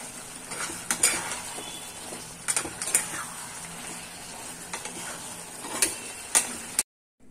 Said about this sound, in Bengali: চিংড়ি মাছ দিয়ে এঁচোড়ের তরকারি হচ্ছে